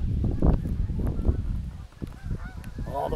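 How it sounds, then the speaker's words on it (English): Geese honking as a flock takes off and flies away across open grounds around an abandoned correctional centre, calls rising and overlapping at moderate distance over steady outdoor background noise. "A bunch of geese flying away over there."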